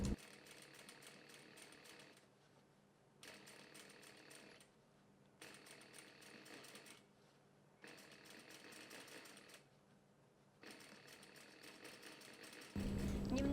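A sewing machine stitches a narrow one-millimetre seam along a cambric lining for a skirt flounce, running in several steady bursts of a few seconds with short pauses between, and a faint steady hum persists throughout.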